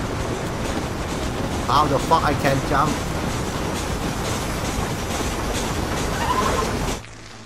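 A train rumbles along in the Western game Red Dead Redemption, a steady broad clatter with faint metallic squeals and someone talking over it, before it cuts off abruptly near the end.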